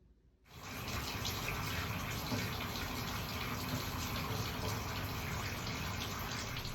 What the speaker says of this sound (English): I'll add more water to the bowl and make a liquid.